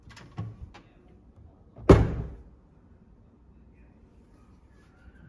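A single wooden kitchen cabinet door under the stove thumps shut nearby after a couple of faint taps, then the room falls quiet.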